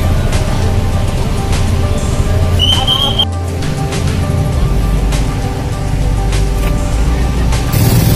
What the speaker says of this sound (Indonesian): Ini macet padat, teman-teman.